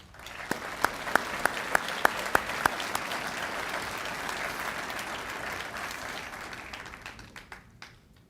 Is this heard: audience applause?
yes